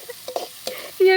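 Chopped onion frying in hot oil in a pan gives a short, close sizzle broken by a few stirring clatters, then a sustained tonal hum near the end.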